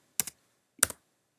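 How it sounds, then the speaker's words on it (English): Two quick computer keyboard keystroke clusters, about half a second apart, entering a value into a length text box, crisp and close in an otherwise quiet room. "So we're going to select the value in the length text box. And we're going to type"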